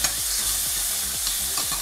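A finely chopped medium tomato goes into a hot spiced tempering with coriander for Marathi phodnicha varan. A close, steady sizzle runs throughout, cut by regular scraping stirs about every half second, with no voices.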